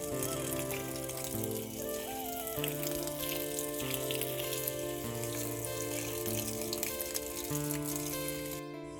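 Cold water runs from a garden pipe onto potted plants at home, a continuous splashing hiss that lasts throughout with music playing over it.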